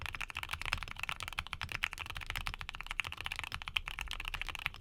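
Quiet, rapid typing on a mechanical keyboard fitted with Aqua King thocky switches, a steady run of soft, deep keystrokes heard alone.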